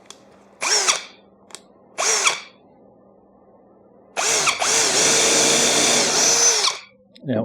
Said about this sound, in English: I'm re-drilling them so that the screws don't split wood